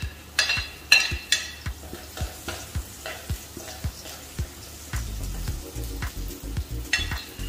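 Garlic and rice being stir-fried in a pan at home: a steady sizzle with regular scraping strokes of a spatula, close and fairly loud, growing busier toward the end.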